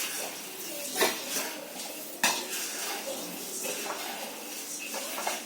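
Puffed rice for chivda is stirred in a pan, giving light rustling and scraping with a few clear metallic knocks of a utensil against the pan. The sound is close and fairly quiet.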